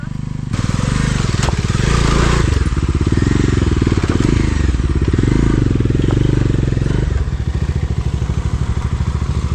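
A motorcycle engine revs hard and labors close by as it climbs a steep mountain slope, its throbbing sputter sustained for several seconds, with people shouting over it while pushing from behind.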